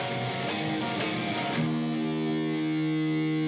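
An overdriven electric guitar runs through a short verse phrase of a song at full tempo, a quick burst of picked notes settling into a sustained ringing chord, played alone with no voice.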